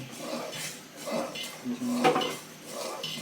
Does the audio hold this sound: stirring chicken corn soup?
yes